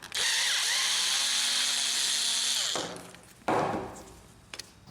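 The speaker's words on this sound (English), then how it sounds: "On the side, remove the screw." Power screwdriver whirring steadily for almost three seconds while backing a screw out of the side panel of a Brother laser printer, then stopping, followed by a short clunk and faint handling noises.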